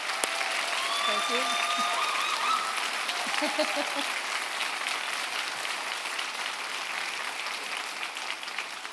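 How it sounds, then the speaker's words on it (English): A college convocation crowd applauds its graduates with sustained, even clapping that slowly fades toward the end, while a voice briefly says a few words over it. "So I'd like a round of applause for our graduates."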